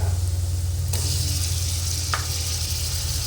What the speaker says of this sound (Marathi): आता याच्यामध्ये आपण टोमॅटो घालूया।